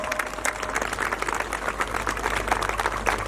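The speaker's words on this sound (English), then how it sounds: "Kindly give her a huge round of applause" An audience at a school annual day claps for a student's national award, giving steady, even applause that stays moderately faint and carries on without a break for a few seconds.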